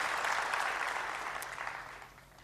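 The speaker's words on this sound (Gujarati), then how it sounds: "એક જોરદાર એના માટે તાળીઓ પાડી દી." A crowd at a motivational program claps for a young anchor, a dense wash of applause that starts full and gradually fades over a couple of seconds.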